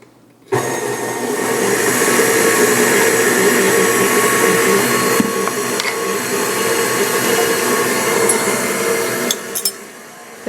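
An electric mixer runs steadily for about ten seconds, whirring loud and close as it beats pumpkin roll batter with lemon juice, its motor drone even throughout, with a couple of faint clinks near the end.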